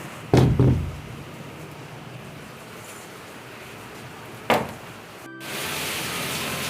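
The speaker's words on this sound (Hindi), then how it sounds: "और मैं दरवाज़ा करती हूँ बंद।" A door is shut twice with two sharp knocking thuds, close and loud, amid the steady hiss of heavy rain, which swells louder near the end.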